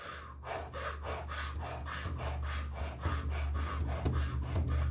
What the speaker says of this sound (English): continue breathing through an O-shaped mouth, powerfully inhaling and exhaling